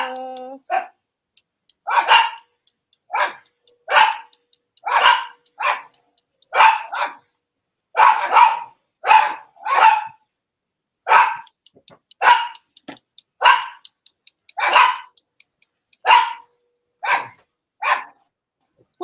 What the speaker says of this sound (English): Oh, my little dog.